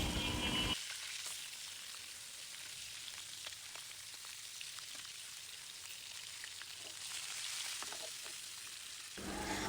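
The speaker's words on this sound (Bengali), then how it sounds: "মোটামুটি আমার মাছগুলো কিন্তু সুন্দর করে ভাজা হয়ে গেছে" Koi fish fry in hot oil in a pan, giving a soft, continuous crackling sizzle with scattered pops, nearby but fairly quiet, with a brief louder rush at the start and end.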